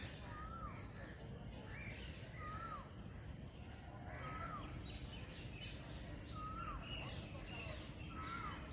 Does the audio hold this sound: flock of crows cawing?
yes